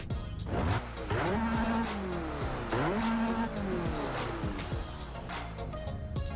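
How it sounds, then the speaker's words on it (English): A tuned 2010 Hyundai HKS Genesis coupe, 440 horsepower with turbo, races in Assetto Corsa, its engine revving up and dropping sharply through repeated gear shifts while the tires squeal, loud and continuous. "This is the Hyundai HKS Genesis from 2010, the coupe"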